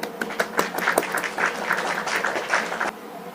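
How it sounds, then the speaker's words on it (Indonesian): Classroom applause as a teacher's lesson ends: a small group claps in lively, uneven bursts with distinct individual hand claps, fairly close. It stops abruptly after about three seconds. "Mari beri tepuk tangan untuk kita semuanya."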